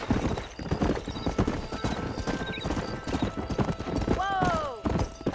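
Horse hooves clip-clop at a steady gallop in Red Dead Redemption on Nintendo Switch, rhythmic and close, with a horse whinnying near the end and someone speaking over the ride.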